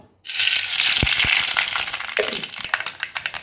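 Mustard seeds hit hot oil for a Kerala-style chilli fish curry, erupting into a loud, steady frying hiss with scattered crackles and sharp pops that grow sparser toward the end, with no talking.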